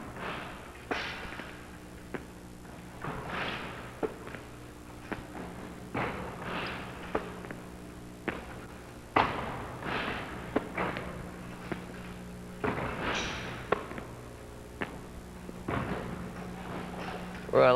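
A basketball bounces and thuds during three-point shooting practice in a gym, with irregular dull impacts and occasional sharper slaps spread across the stretch, fairly faint and echoing.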